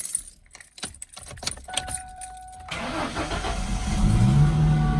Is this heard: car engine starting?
yes